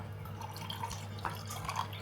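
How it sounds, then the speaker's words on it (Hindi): Rooh Afza syrup is poured into a glass, a soft liquid trickle with faint drips and splashes heard close by against a low background hum. "तो इसके अंदर अब मैं ऐड कर रही हूँ रूह अफ़ज़ा।"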